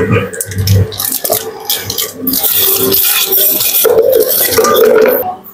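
Japanese curry roux being crushed and stirred in a pot, with scraping, clattering utensil strokes and wet mashing sounds, close and fairly loud, with brief bursts of talk in between.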